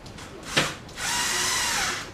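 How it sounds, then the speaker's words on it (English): A brief tap, then a cordless drill whirs steadily for about a second while setting up a skateboard, close by with no voices. "I got my cordless drill handy for me"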